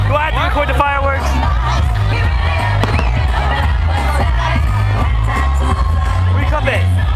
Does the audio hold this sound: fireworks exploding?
yes